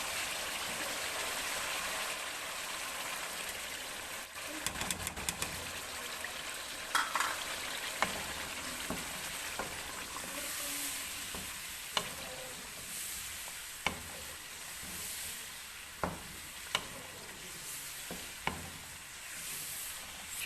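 Chicken karahi, with yogurt just added, frying steadily in the pan, a soft continuous sizzle with occasional clicks and scrapes of stirring, fairly faint and without any voices.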